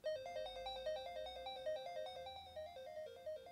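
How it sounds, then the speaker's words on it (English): A Sega Game Gear handheld plays a bright, beeping chiptune melody in quick, even steps, with steady square-wave tones repeating for a few seconds and no voices. "we now have sound on this Sega Game Gear"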